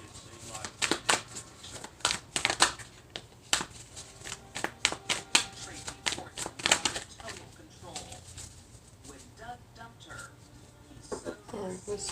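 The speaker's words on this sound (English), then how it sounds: "I'm going to get a few cards from each Oracle" Oracle cards are shuffled and drawn by hand in a series of quick riffling bursts and soft slaps, close and crisp, with a voice talking quietly between them.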